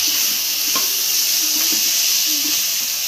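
Eggplant bharta, seasoned with coriander powder and salt, is stirred in a hot pan. It gives a steady close sizzle and hiss, with a few soft spatula scrapes and clinks.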